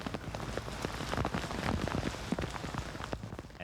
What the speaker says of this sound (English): And then a steady rain.